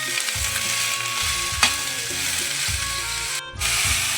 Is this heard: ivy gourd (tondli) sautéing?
yes